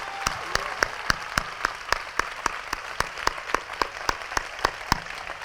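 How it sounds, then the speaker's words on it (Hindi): An audience at an annual church convention claps in loud, evenly timed unison beats, a steady rhythmic pulse over a continuous wash of applause. "जोर से ताली बजाएंगे,"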